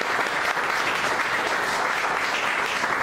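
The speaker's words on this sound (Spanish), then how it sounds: "Denle una ofrenda de palmas al Señor." A church congregation claps together in steady, loud applause, many hands blending into a continuous dense patter that fills the room.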